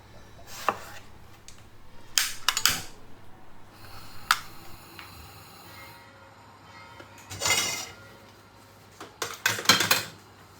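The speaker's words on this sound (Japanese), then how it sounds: "このように3センチぐらいの厚さに切って" Knife slicing an eggplant into thick rounds of about 3 cm on a board, a series of sharp, close chops arriving in short clusters with quiet pauses between.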